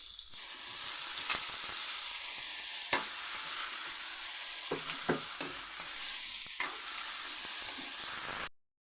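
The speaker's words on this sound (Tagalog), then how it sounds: "Ginigisa ko muna kasama yung pork" Pork sautéing in a pan for sinigang: a steady loud sizzle and hiss with occasional knocks and scrapes of stirring, continuous until it cuts off abruptly near the end.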